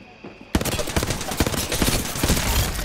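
Rapid gunfire in Apex Legends, a burst of close, loud shots beginning abruptly after a short quiet moment and continuing as a dense fusillade to the end.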